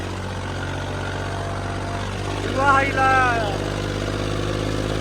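A tractor engine drones in a steady low rumble throughout while working in sand, and a person speaks briefly over it midway.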